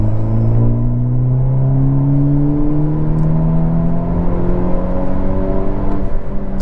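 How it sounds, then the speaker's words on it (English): A 2022 Hyundai Elantra N revs in its custom exhaust sound setting tuned for deep, throaty bass and little whine, the engine note climbing steadily and loud, close by and without voices. "Now this one was limited whine, but maximum throatiness and bassiness."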